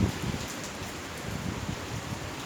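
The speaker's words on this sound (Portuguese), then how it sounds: "Tá chegando aqui. A chuva, né? Tão esperada, né?" Steady rain falls in Ouro Fino, a dense even patter that sounds near and holds at a constant level throughout, with no talk over it.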